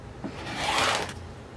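A single smooth slicing stroke through quilting fabric, a soft rasping swish that swells and fades over about a second, close and fairly quiet with no talk.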